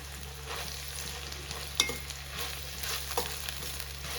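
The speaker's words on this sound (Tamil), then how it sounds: "நம்ம வந்து கடாயில் சட்டியில் போட்டு வதக்கிறோம்" Onions and tomatoes sautéing in a kadai for chicken curry, an even close sizzle over a low steady hum, with a sharp spatula clink near the middle and a softer scrape later, no one talking.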